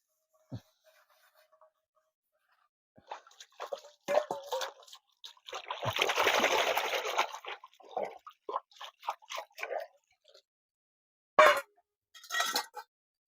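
Dishes are washed by hand outdoors: clinking utensils, splashing and pouring water in bursts, with quiet gaps between scrubbing and rinsing.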